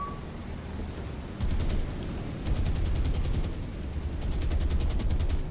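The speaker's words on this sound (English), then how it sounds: "Anti-aircraft guns going off." Anti-aircraft guns in the naval combat game War on the Sea fire in rapid rattling bursts over a constant low rumble of sea and wind, the rattles coming in clusters of quick repeated shots.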